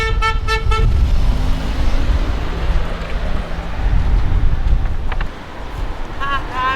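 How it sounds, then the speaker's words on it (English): Several short car horn toots sound over steady road and wind rumble from a moving vehicle, in two bursts of rapid honks at the start and near the end, fairly loud, with people talking at times. "Oh, she honked."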